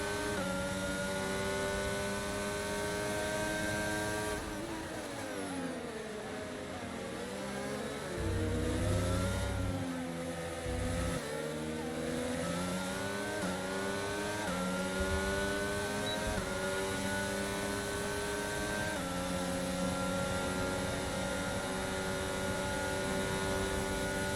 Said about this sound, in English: this is a huge pack of cars that's driving all together here